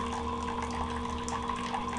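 A tap runs with weak water flow, a steady, even hiss and trickle that continues without pause throughout, close and moderately loud.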